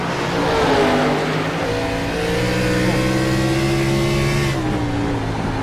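Race cars in a sim racing game of an Xfinity series event, several engines droning and revving together at high pitch, rising and shifting as the cars run close.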